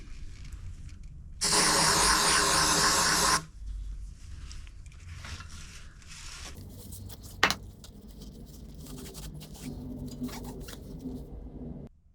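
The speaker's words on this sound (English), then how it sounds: "I'll be using our disc brake cleaner for this job as it acts as a good degreaser." Disc brake cleaner sprays as a degreaser into a BB386 30 mm mountain bike bottom bracket shell, one sustained loud hiss of about two seconds, followed by quieter handling noises and a sharp knock.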